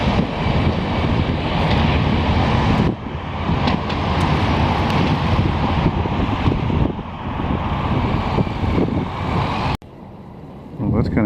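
Strong gusting wind roars steadily across an outdoor railway station in Montreal in March, a loud continuous rumble that drops off sharply near the end.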